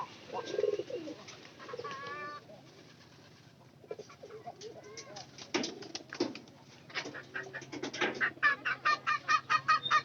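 Chickens cluck and call close by on a farm, with several birds making soft croaks and short rhythmic clucks that grow busier and louder toward the end, with some quiet background voices.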